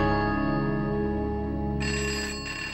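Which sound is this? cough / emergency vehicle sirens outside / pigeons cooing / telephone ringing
telephone ringing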